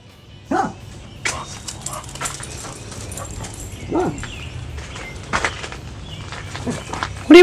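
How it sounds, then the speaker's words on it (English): A dog in a workshop yard gives a few short, separate barks and yips, moderately close, with quiet gaps between them. "We'll find out what my dog's barking at."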